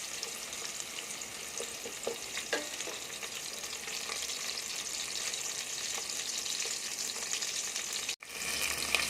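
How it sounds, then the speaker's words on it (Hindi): Chopped medium onion fries in hot cooking oil in a pot, giving a steady, close crackling sizzle that runs throughout with occasional louder pops, and nobody speaks. "उसके अंदर हमने ये मीडियम साइज़ का जो प्याज काटा था वो ऐड कर दिया है। अब प्याज को थोड़ा सा हम लाइट ब्राउन करेंगे।"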